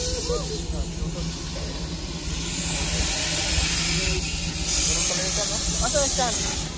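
Steady loud hiss of steam from an old train in Japan, continuous over a low rumble, with voices talking and calling in the background.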